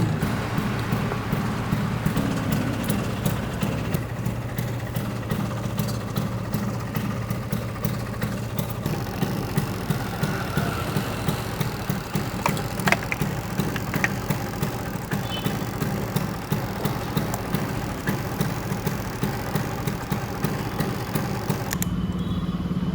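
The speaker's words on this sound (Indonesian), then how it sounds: "Tapi kita panasi motor dulu." A motorcycle engine warms up at idle close by, a steady low putter with rapid regular pulses running continuously for over twenty seconds, with no talking.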